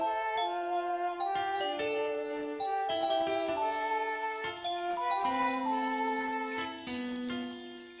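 Synthesized bell tones in an electronic music track being produced ring in a bright, steady melodic pattern of overlapping chiming notes, close and continuous for several seconds without talk.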